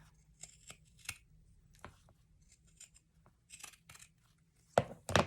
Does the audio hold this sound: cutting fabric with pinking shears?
yes